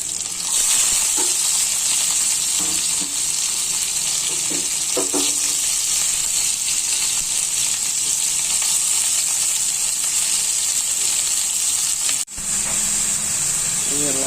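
Onions sizzle in hot oil with green chillies in a pan. A loud, constant hiss of frying continues throughout, broken by a few soft stirring knocks.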